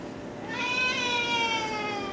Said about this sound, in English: Look at a starving kitty cat.